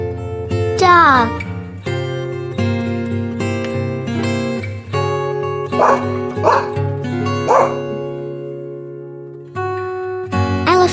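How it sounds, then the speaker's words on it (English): A dog barks several times in short separate bursts over steady background music, with the barks standing out clearly at a moderate distance. A voice may be present faintly. "dog,"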